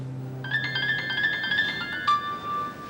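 An electronic phone ringtone plays a quick warbling melody of bright beeps, then shifts to a sustained tone, fairly loud and close.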